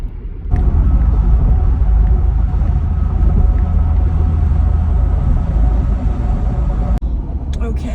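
A car drives along a road toward WP Franklin Campground near Fort Myers, its cabin filled with a loud, steady low engine and road rumble that continues unbroken. A faint click sounds near the end.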